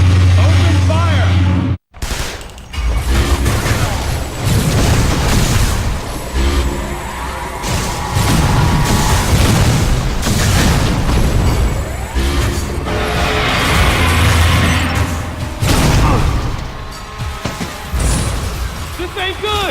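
Guns fire and explosions boom in a frantic Metroid Other M battle, dense and loud after a brief silent cut, with shouted voices running through the chaos.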